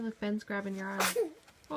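A quick sneeze bursts out in the middle of casual conversation, with people talking just before and after it.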